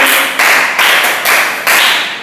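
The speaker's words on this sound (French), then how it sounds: "Applaudissez pour lui." Several bursts of clapping from a small group of primary school pupils in a classroom, coming in quick uneven waves that swell and fade over a couple of seconds.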